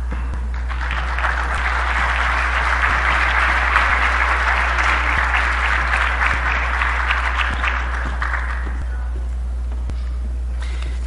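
Sustained audience applause for an award recipient, a teacher and doctor, at a Veracruz state education ceremony, steady and fairly loud throughout over a low constant hum, fading near the end.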